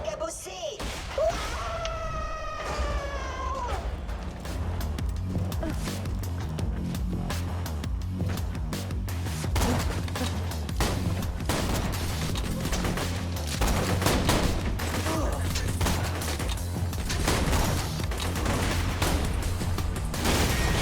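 Rapid gunfire and heavy cannon blasts pound continuously in the Borderlands 2 video game as a cannon fires at a door, dense loud bursts and thuds layered with game sound effects throughout.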